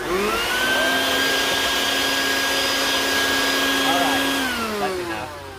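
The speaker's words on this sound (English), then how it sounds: "And just a quick vacuum test." A vacuum cleaner runs steadily inside a 2018 Mercedes Sprinter 144 wheelbase crew van, a loud, constant motor whine holding at one pitch for several seconds before dipping slightly as it winds down.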